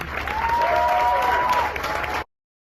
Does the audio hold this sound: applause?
yes